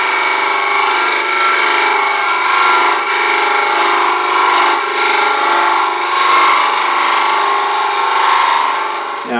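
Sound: wood lathe turning a salt and pepper shaker

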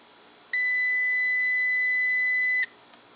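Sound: digital multimeter continuity beep

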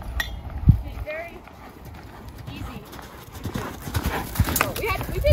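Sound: horse hooves while loping

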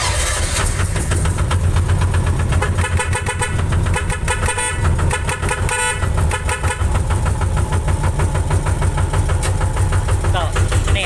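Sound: hand-started Thai farm vehicle (i-taen) engine running

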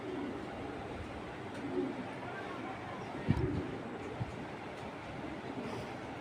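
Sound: racing pigeons cooing

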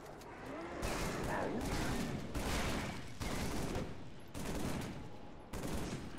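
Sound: burst-fire weapon shots in Halo 3 video game

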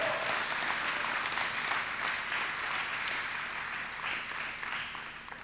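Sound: church congregation applause

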